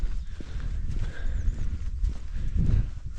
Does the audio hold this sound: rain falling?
no